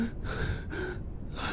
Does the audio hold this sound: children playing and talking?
no